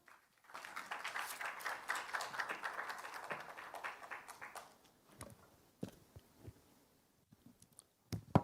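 An audience at a Korean cloud conference in Busan applauds a speaker's arrival. The clapping is moderately quiet and lasts about four seconds before it thins into a few scattered claps and taps.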